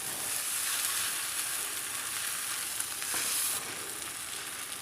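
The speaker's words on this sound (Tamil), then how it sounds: "இப்போ நல்லா கிளறி விட்டுக்கலாங்க." Sabudana khichdi (sago pearls) sizzles steadily as it fries in a pan while being stirred, a loud, continuous hiss with no voices.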